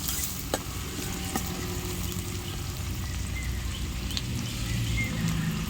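Tomatoes being sautéed in a pan over a wood-fired stove for a squid fry, giving a steady, quiet sizzle with occasional faint clicks of stirring.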